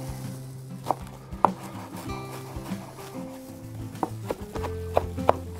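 Knife finely chopping fresh dill on a board, irregular sharp taps spaced out against a steady low hum, fairly close and moderately loud, with no one speaking.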